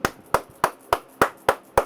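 Seven slow, evenly spaced hand claps, close and crisp, each a sharp single slap with short silence between, offered as applause with no talking.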